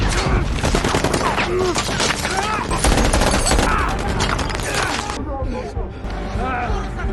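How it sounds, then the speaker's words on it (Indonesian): Gunfire in a war film set in Afghanistan, with Taliban fighters launching a surprise attack: dense loud bursts of rapid shots and clatter continuing throughout, mixed with shouting voices and chaotic noise. "Kinley pun diserang secara mendadak oleh kelompok Taliban hingga beberapa tembakan mengenai tangan dan kakinya."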